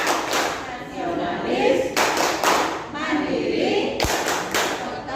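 A classroom group claps a rhythmic patterned chant, the Tepuk PPK, led by a teacher during a teachers' workshop in Surabaya; loud clustered claps and thuds come in bursts alongside spoken chant words.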